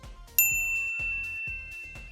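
A bright notification bell dings once, loud and clear, then rings out in a long shimmering decay under soft rhythmic background thumps.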